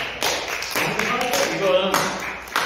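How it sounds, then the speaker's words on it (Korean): A church congregation clapping during a Sunday worship service, a burst of many hands clapping together in an irregular patter, mixed with some voices. "이럴 때 하나님께 박수 영광의 박수 해야 돼요."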